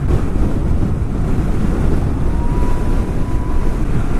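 Strong wind buffets the microphone on a night ride, a loud, constant low roar with no let-up and no voices.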